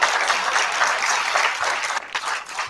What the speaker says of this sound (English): Clap it up again for the principals doing amazing work in our district.